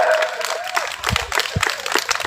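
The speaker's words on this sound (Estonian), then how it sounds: "Aplaus" Crowd applause at a Centre Party protest rally against government policy, a dense outdoor patter of clapping following the end of a song, with a few louder claps and thumps close by.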